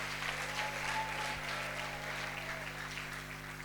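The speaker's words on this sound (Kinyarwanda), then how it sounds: "Komera Yesu amashyi menshi cyane." A church congregation applauds warmly and steadily, dense clapping filling the hall for a few seconds over a low constant hum.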